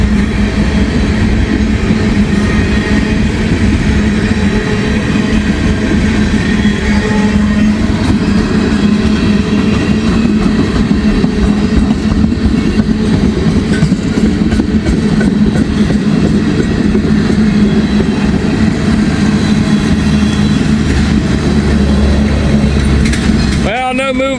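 A locomotive-hauled train rolls past close by, a steady loud rumble of wheels and rail noise running throughout, with a brief squeal near the end.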